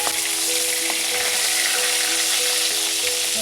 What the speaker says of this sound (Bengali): শুধু হালকা করে মাছটা ভাজবো, বেশি লাল করে ভাজবো না।